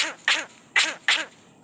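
A pet myna bird imitates a human cough, giving three short raspy bursts in quick succession, close and clear, with the start of a fourth at the end.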